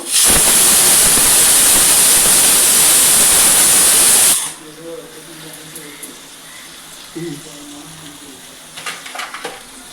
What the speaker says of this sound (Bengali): আমি পটলটা আর আলুটা খুব ভালো করে ভেজে নেব